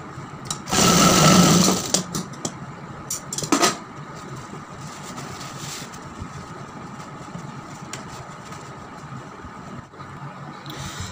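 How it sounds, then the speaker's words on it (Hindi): A sewing machine stitches a folded sleeve in a short, loud burst of rapid whirring, then a brief second run, followed by a quieter room background. "फोल्ड करके हम यहाँ पे सिलाई लगा देंगे"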